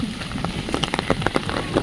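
Rain falls steadily, a close, fine patter of irregular drops striking a hard surface, crisp and moderately loud with no voices.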